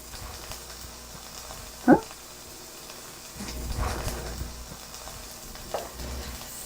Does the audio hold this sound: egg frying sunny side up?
yes